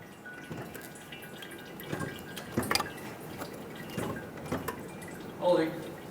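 Brake fluid and air spitting and dripping from an opened bleeder screw on a 2008-2010 Ford F-250 Super Duty front brake, heard as soft irregular drips and gurgles up close, with a voice speaking at times.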